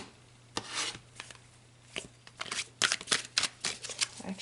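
A deck of tarot cards being shuffled and handled, giving soft rubbing swishes early on, then a quicker run of sharp riffling snaps and flutters, close and fairly quiet.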